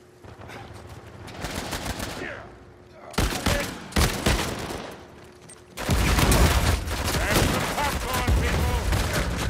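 Rapid bursts of automatic gunfire and scattered shots ring out in an Uncharted 4 multiplayer match, coming in dense clusters with brief lulls between them, loud and close, while voices talk beneath the shooting.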